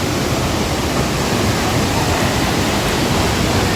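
Tat Chiang Lue waterfall at Bualapha, Khammouane, roars as a loud, dense, continuous rush of falling water, close and unbroken.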